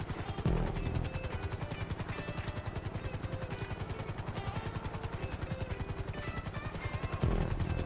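A helicopter in the video game GTA V flies with a loud, steady rotor chop pulsing throughout, close and dominant, with brief engine surges near the start and end and no speech.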